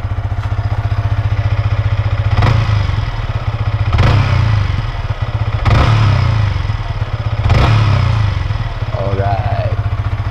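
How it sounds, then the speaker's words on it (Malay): Single-cylinder engine of a Yamaha MT-15 motorcycle idling, then revved in about four short bursts, close and loud. "Dan kita rev sikit."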